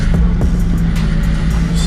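A classic car's engine idles steadily just after its power steering fluid has been topped up, a continuous low rumble close by with faint, regular ticking on top and nobody talking.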